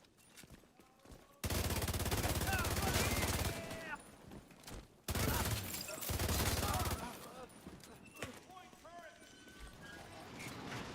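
Rapid gunfire from a laser-like weapon in the shooter game The Division 2, loud sustained bursts that cut in and out several times, with players talking over the action.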